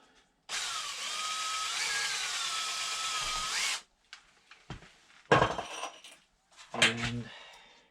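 Power drill boring a pilot hole while building a full-height teardrop camper: one loud sustained whine of about three seconds with pitch wavering, followed by short clanks and tool knocks.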